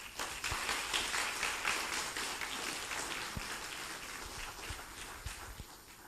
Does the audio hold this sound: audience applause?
yes